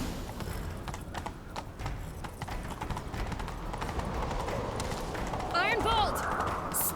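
Horse hooves clip-clop in a steady gallop in The Witcher 3 game, running under ambient noise while a voice speaks briefly and a horse whinnies near the end.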